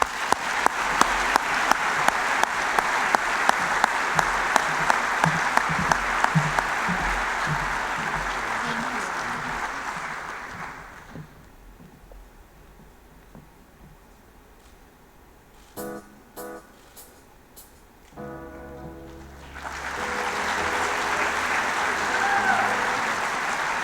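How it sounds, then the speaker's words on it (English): A crowd at a high school sports awards event applauds loudly for a Courage Award recipient, then the clapping drops away to a quieter stretch with talk and a few sharp sounds before cheering swells again. "please join me in giving a big round of applause to our 2022 Courage Award recipient"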